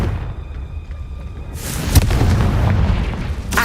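A Confringo spell in Hogwarts Legacy bursts into a loud, deep explosion with a booming rumble that swells and lingers after a quieter stretch, followed by a second sharp blast near the end.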